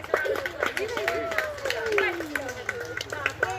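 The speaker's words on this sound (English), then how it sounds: "Let's give these guys a nice round of applause" A small tour audience in the Montana Vortex mystery house claps in scattered, uneven bursts, close by, with a voice speaking over the applause.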